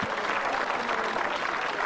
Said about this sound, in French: Donnez un applaudissement pour Ruby